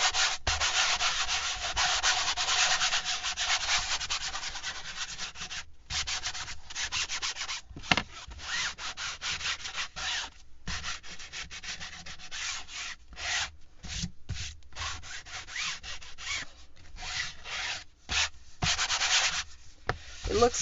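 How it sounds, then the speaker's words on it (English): Hand sanding of a painted fabric-covered journal cover to distress it, continuous rasping strokes with short stops, close and steady, no voices. "let's go ahead and sand some on here too. Give it a nice distressed look."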